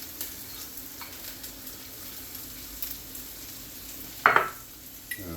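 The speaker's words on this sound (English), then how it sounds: "Now I'm going to do the peas around the outside." Peas stir-frying in a new wok for fried rice, a steady soft sizzle with one sharp clatter of a utensil near the end.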